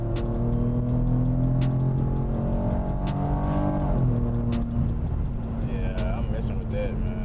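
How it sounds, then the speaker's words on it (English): A V6 car exhaust fitted with an H-pipe and Vibrant resonators revs up close and loud, its droning tone climbing and dropping with throttle blips and settling back toward idle. "with the way that this exhaust is sounding now, I think maybe I could go without the cats"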